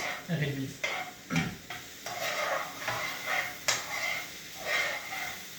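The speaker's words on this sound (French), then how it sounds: "et vous mélangez en attendant que le jus réduise." Apples being stirred in a pan as their juice reduces for a flambéed jubilee-style dessert: repeated utensil scrapes and knocks against the pan over a soft bubbling sizzle, close and moderately loud.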